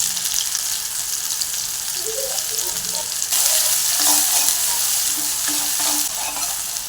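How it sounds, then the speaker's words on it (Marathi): Onion and spring onion fry in oil in a kadhai, giving a steady, close sizzle with occasional stirring clinks, continuous throughout with no talking. "तर आपण तेल टाकूया कढीमध्ये त्यामध्ये आपण कांदा टाकूया आता कांदाही मग आणि कांद्याची पात टाकून घेऊया"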